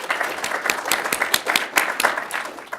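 Audience applause from a crowd, a dense, steady patter of many hands clapping at moderate loudness, continuous and without talk.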